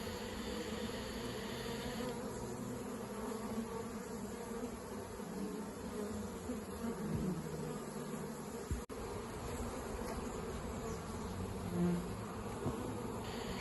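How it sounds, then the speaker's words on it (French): A honey bee swarm being gently pushed toward a hive entrance hums in a dense, steady buzz throughout, close and continuous, with a brief knock partway through and no talking. "Je pousse délicatement les abeilles en direction de l'entrée pour qu'elles pénètrent plus rapidement dans la ruche."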